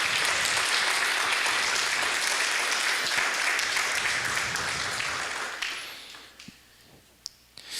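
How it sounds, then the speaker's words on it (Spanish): A church congregation claps loudly and continuously for several seconds at a Spanish-language service, then the applause thins out into a few scattered claps and fades. "Den un aplauso al Señor por eso."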